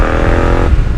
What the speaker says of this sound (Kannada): ಎಕ್ಸಾಸ್ಟ್ ದ ಸೌಂಡು ಸ್ಮೂತ್ ಉಂಡು